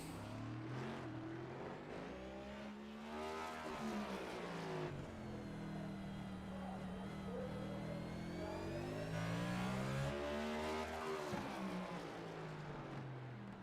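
A race car at an all-star stock car race at the LA Coliseum gives a loud engine note that falls as the driver brakes hard into a corner, then rises again on acceleration, with other engines droning nearby.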